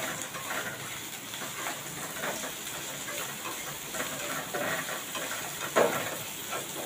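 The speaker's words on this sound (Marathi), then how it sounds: "कांदा थोडा परतून घेऊया." Medium-cut onion sautéing in a pan for creamy white sauce pasta gives a steady, close sizzling hiss, with faint stirring scrapes and a brief louder clatter near the end.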